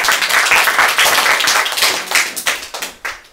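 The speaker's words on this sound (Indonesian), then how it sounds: "Tepuk tangan bagi Tuhan Yesus" A church congregation claps their hands together in praise, a dense burst of many close, overlapping claps that thins into a few scattered, separate claps before fading out.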